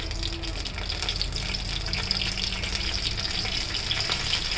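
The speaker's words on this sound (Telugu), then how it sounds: "జీలకర్ర వేసి 4 ఎండుమిరపకాయలు వేసేసి వేగే వరకు" Cumin seeds and four dried red chillies frying in hot oil, a dense continuous sizzle and crackle close up, steady throughout with faint stirring.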